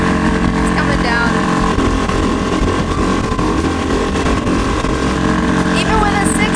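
6-horsepower outboard motor pushing an inflatable dinghy that is starting to plane, a loud, steady, buzzing drone heard close up throughout with wind and water noise.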